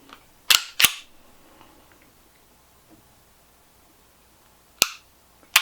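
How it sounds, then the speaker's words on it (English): A used handgun being handled at close range: a few sharp metallic clacks as the magazine drops and the action works, then a quiet stretch before another crisp click of a dry trigger pull. "So let me drop the mag. Nice trigger pull."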